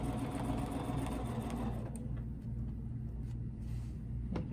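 Sewing machine running steadily through quilt ruler work, a continuous mechanical hum with low rhythmic rumble that carries on throughout, slightly quieter in the second half.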